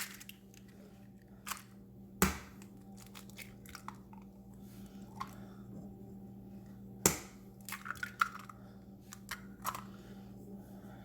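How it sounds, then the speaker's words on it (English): Six eggs are cracked into a bowl in a home kitchen, giving sharp, sporadic shell taps and crunches with quiet gaps and faint handling noise between them, close and soft, with no talk. "we're gonna take our eggs, and we're gonna put them in the bowl."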